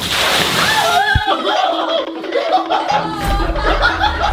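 Water is poured over someone in a short splashing slosh, followed by chuckles and laughter from people nearby.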